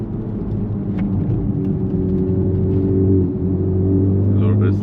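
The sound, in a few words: Honda Civic Type R FL5 with AWE Touring exhaust on downshift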